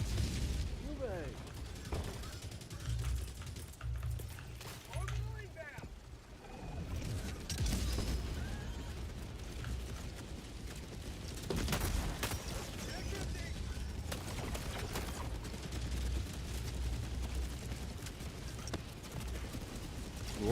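Orbital Gatling fire in a video game, with dense rapid bursts and clattering mechanical noise running through the whole stretch while people talk over it.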